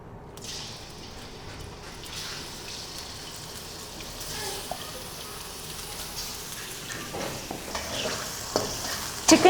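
Boneless chicken fries in half a cup of oil in a karahi with a continuous hiss and crackle, growing slightly louder with a few sharper spatters toward the end.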